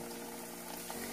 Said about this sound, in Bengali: মোগলাইটা আমরা গরম রিফাইন্ড অয়েলে ছেড়ে দিলাম ভাজবার জন্য।